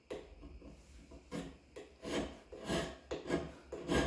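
Hand scraper rough-scraping a cast iron straight edge: a steady rhythm of about seven rasping strokes, close up and moderately loud, each stroke a short scratchy rub with brief pauses between.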